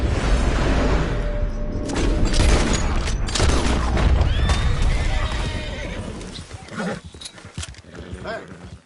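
A horse in Red Dead Redemption 2 whinnies loudly over clattering hooves and rumbling game sound effects, then the commotion thins out into scattered thuds and a voice.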